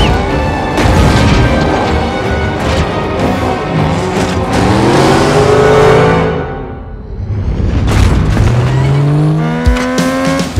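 Cars racing in a movie chase scene, loud engine roars and revving with tire squeal and crashing booms, a brief lull midway before the engines surge again, no talk.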